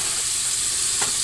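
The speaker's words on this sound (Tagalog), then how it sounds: "magluluto tayo ng sardinas." Sardines with alugbati sizzle and fry in a pan: a steady, bright hiss throughout with one brief scrape of stirring near the end, no voices.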